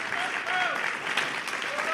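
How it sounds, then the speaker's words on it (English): An audience at a magic convention contest show claps steadily in sustained applause, a broad even wash from a crowd, with a voice faintly over it. "Let's have another big round of applause for all of our contestants and the stage crew backstage"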